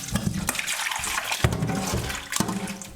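Tap water runs and splashes over raw chicken pieces as they are rinsed after a rub of lime juice, a steady close-up gush with a few louder surges of splashing.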